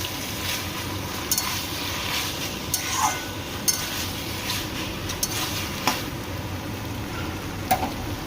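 Egg pasta with fried egg stirred in a kadai on the stove, giving a steady scraping, clinking stir over a soft continuous sizzle, with a few sharper spoon-on-pan knocks spaced through it.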